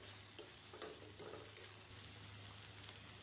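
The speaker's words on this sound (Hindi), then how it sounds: "ये दो बड़े प्याज डाले हैं, तीन हरी मिर्च डाली है, एक शिमला मिर्च डाली है। सबको फ्राई कर लेते हैं।" Onions, green chillies and capsicum fry with cumin in a pan, making a faint, steady sizzle with soft intermittent stirring taps and no voices.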